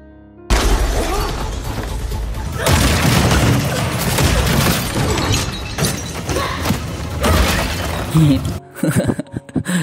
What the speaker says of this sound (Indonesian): Keduanya langsung baku hantam hingga wastafel rancangan India itu pun ikut hancur.